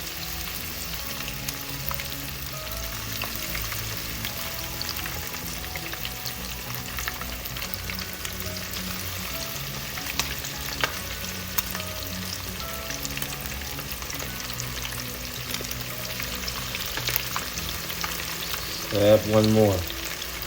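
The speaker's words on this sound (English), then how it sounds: "we'll continue to just fry this up" Karaage, Japanese fried chicken, sizzling steadily in hot oil with a dense, continuous crackle and bubbling throughout, plus a brief louder burst of spitting near the end as another piece is added; a voice speaks briefly.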